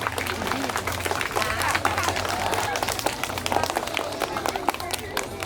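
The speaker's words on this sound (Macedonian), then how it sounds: "ќе ве замолам за еден аплауз за сите виновници за ова" Audience applause at a Habitat Macedonia community event in Veles, steady clapping from a crowd filling the space throughout, with a low hum underneath and some voices mixed in.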